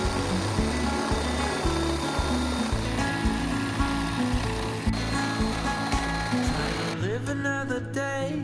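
A power drill boring into a wooden post inside a pole barn loft build, a steady loud whirring grind that runs throughout and eases off near the end.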